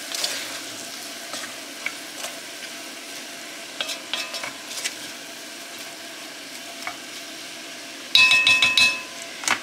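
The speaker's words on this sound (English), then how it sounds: "I'm also going to add some flour. And we are going to stir this to coat everything up really good." Beef with flour sizzles in a pot while being stirred, a steady soft frying hiss broken by scrapes and clinks, with a louder clattering burst of stirring near the end.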